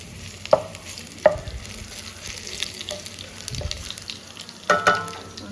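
Chicken liver frying in a pan, a steady soft sizzle with a few sharp clacks of a utensil stirring and scraping against the pan, close and alone.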